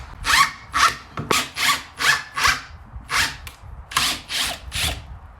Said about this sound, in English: I'm gonna put a couple of 1-inch drywall screws in here just to help hold it in place